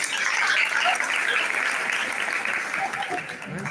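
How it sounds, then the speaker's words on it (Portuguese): Applause from an audience at a school gathering in a quilombola community in Passo de Camaragibe, dense and fairly loud, tapering slightly near the end, with faint voices mixed in. "Palmas para ela também."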